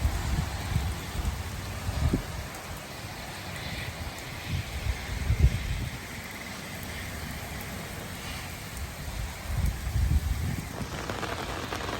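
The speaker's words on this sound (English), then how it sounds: "it's just coming down in sheets" Heavy rain in Shenandoah National Park pours steadily in a dense, continuous wash, with a few louder gusts and drumming bursts on a nearby surface.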